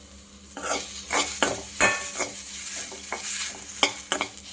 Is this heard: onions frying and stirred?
yes